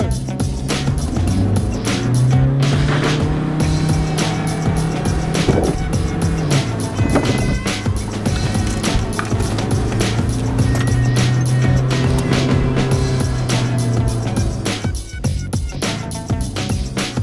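A Volkswagen car is driven hard through a corner, its engine droning loudly and steadily with rising and falling pitch, tyre and road noise underneath.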